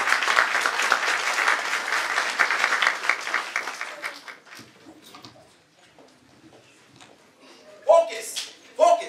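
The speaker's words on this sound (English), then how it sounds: "Come on, clap it up, clap it up, clap it up." An audience at a Black history event claps in a loud, steady round for about four seconds, then it thins into scattered taps and shuffling, with a speaker's voice returning near the end.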